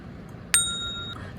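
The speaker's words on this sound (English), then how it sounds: "Turn on the bell so you know when I upload" A single bright bell ding rings out alone, struck sharply and then ringing with a clear sustained tone that fades over about a second, used as a notification chime.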